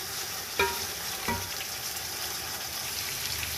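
Chicken pieces fry and are stirred in a large pot for pulao, a steady sizzle with two distinct scraping knocks of a spoon early on.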